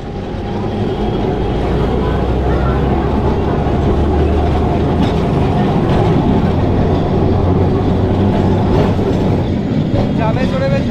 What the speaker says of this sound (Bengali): ট্রামে চড়ে বেশ ভালোই লাগছে।